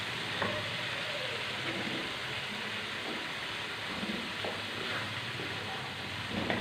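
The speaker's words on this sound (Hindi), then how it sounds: "ये देखिए कलेजी को हमने भून लिया।" Chicken liver frying in masala, 500 grams in a pan, giving a steady close sizzle with intermittent stirring scrapes and light clinks, no speech.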